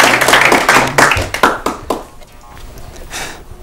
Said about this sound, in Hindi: हमारे लिए ताली बजाइए और इनके लिए भी ताली बजाइए।